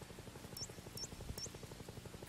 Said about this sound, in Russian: Вертолет уже летит.